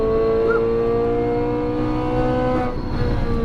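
A sports car engine, one of a lineup including GT3, McLaren 570S, Ferrari 458 and 488 and Lamborghini Huracan Performante, hums loudly and steadily on a race track as it rolls back onto the throttle, with a slight dip near the end.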